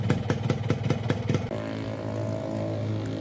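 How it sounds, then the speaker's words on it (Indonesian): Two-stroke motorcycle running on Unirace 2T oil revved through its exhaust: a quick burst of loud, stuttering revs that settles into a steady, buzzy idle close by. "dengar suara knalpot dua tak yang lagi digeber"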